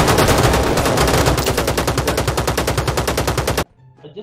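Rapid, loud, evenly spaced shots from a shotgun in a video game, fired in a fast continuous burst that cuts off abruptly into near silence.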